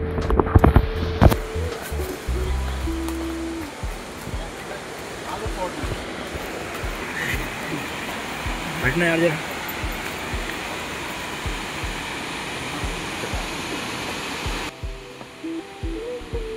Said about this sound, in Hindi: पानी की आवाज़ और तेज होती जा रही थी